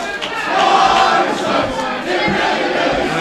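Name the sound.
wrestling crowd shouting at Arsenic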